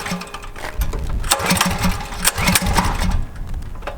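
A 1957 Volkswagen Beetle fitted with a twin-turbo engine cranks and sputters while trying to start, a rapid, rough mechanical chatter with uneven pulses that is continuous and close by.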